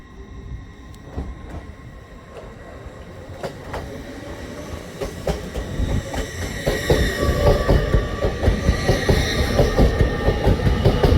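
A Lumo train departs Newcastle station bound for Edinburgh Waverley, its rumble and rhythmic wheel clatter building steadily over the clip, with squeals and clicks of rail joints as it gathers speed.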